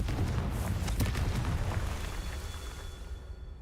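Fiery blasts of the Confringo spell in Hogwarts Legacy on PS5, a run of deep, rumbling booms with crackling bursts that gradually fade toward the end.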